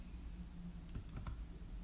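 Quiet clicks of a computer keyboard, a few scattered keystrokes over low steady background hum, with no talking.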